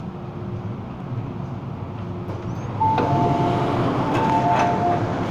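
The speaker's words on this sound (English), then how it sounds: "The train to Taiwan is arriving." Hong Kong MTR M-Train on the Island Line pulling into a station, a steady low rumble of wheels and motors that swells louder partway through, with a faint tonal whine from the traction system and no talking.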